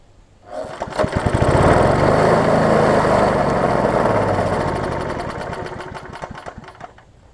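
An old Garden Pride lawn mower engine catches and starts up, its close, loud, rough running building quickly, holding steady, then easing off near the end with a sputtering rhythm.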